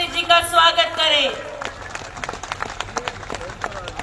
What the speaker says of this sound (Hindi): जोरदार तालियों की गड़गड़ाहट से माननीय मुख्यमंत्री जी का स्वागत करें।